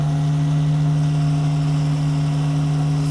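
A supercharged drift car idles high on a dyno, producing a steady, unbroken low drone with a constant hum from start to finish and no changes in revs.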